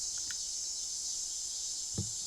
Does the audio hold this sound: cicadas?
yes